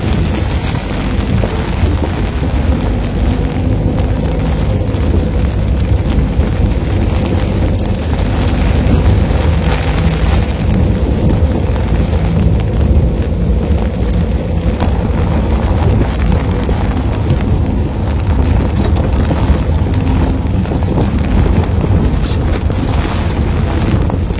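Steady rain pours during a storm along a road trip from Singkil to Kuala Baru, a dense continuous wash of noise with wind buffeting the microphone, loud and unbroken throughout.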